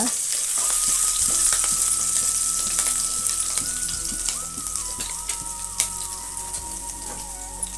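Green chillies frying in oil for chicken egg fried rice, a steady loud sizzle with occasional stirring scrapes and taps from the pan, close and continuous without talk.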